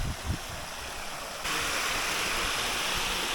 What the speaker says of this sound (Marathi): इकडं या ठिकाणी थोडंसं पाणी वाहत आहे जास्त नाही आहे